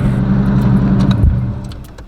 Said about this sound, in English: as y'all can hear, my exhaust sound really good in this box Chevy